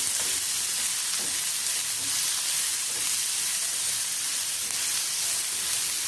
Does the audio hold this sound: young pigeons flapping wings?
no